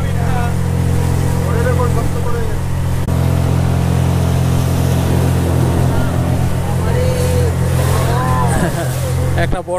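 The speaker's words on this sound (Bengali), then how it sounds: "একটা বোট ফিরে এলো।" A motorboat engine drones loudly and steadily on a mangrove river, a constant close motor hum throughout with wind noise and someone talking over it.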